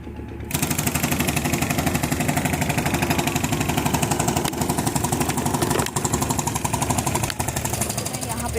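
A motorbike engine revving steadily and close by on a Himachal village road, a loud continuous mid-pitched drone that holds throughout with slight fluctuations as the bike rides off.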